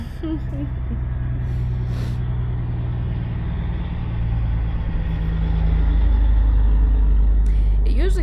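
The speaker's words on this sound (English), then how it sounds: "pretty quiet in this neighborhood, except for the occasional trucks, work trucks and stuff" Work truck rumbling past on a quiet neighborhood street, its low engine growl building and growing louder toward the end while a person talks nearby.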